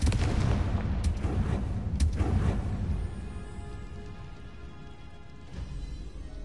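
A Confringo blasting spell fires in Hogwarts Legacy, played on PS4 on hard difficulty, giving a few sharp bursts in the first three seconds over a steady rumbling game ambience, which then settles to a quieter hum.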